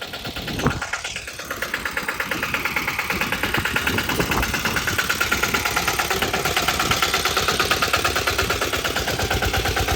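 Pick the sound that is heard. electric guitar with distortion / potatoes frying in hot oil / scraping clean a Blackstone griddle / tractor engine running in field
tractor engine running in field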